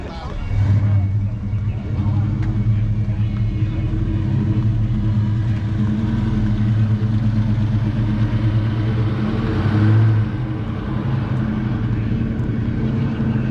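V8 engines rumble and idle steadily at the Trifive Nationals car show for classic Chevrolets, a loud continuous low drone with a brief swell near ten seconds, and people talk faintly in the background.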